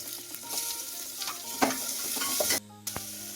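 Crushed onion sizzling and frying in hot oil, stirred with a spoon that scrapes the pan in short strokes, a steady close crackle with a brief pause near the end.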